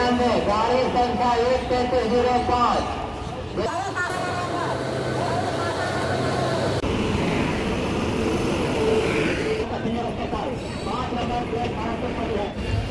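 Continuous rumbling train noise with shifting mechanical tones as it moves, voices talking over it throughout.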